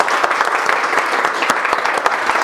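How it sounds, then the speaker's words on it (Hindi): A group of students in a mobile phone repair class applauds themselves, a brief burst of steady, dense clapping from a roomful of people with no talk over it. "सबसे पहले एक बार ताली बजाओ खुद के लिए"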